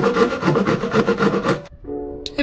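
A hand saw cuts an incision into wood for a storage shelf, giving about a dozen rhythmic close rasping strokes, then stopping, with a short faint scrape of the saw being moved afterward.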